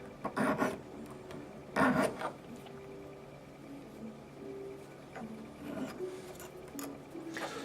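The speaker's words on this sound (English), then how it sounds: "So that's how you can make just about any shape that you want, just with a file" Edges of printed label stock being rounded with a hand file, a few separate raspy strokes in short bursts with quiet gaps between, fairly close and alone.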